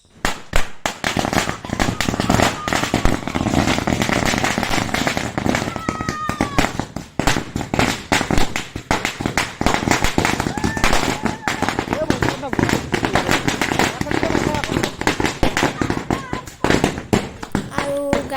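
Diwali firecrackers burst in a long dense barrage of sharp cracks and pops, loud and continuous, crackling over several seconds with brief gaps.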